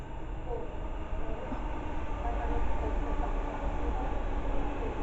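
A pair of Class 350 electric trains runs slowly through Bushey station, a loud, close rumble of rolling wheels that builds toward the end.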